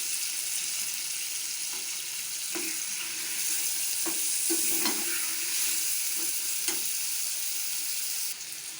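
Sliced potatoes and green chillies sizzle steadily in hot oil with cooked masala, a constant close frying hiss broken by occasional scrapes and stirs of a spoon in the pan.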